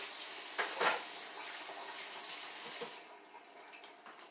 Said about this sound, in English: I'm going to give my hands and my cutting board a quick rinse.